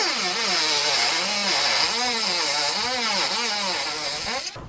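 A small cutting disc on a rotary tool slices through material in model railroad wiring work, a loud, close, high-pitched whine that rises and falls in pitch as the load changes, ending abruptly.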